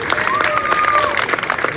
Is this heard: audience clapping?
yes